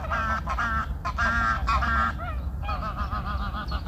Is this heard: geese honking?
yes